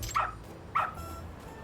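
A dog in the video game Lost Judgment gives two short, sharp barks about half a second apart over a low background hum.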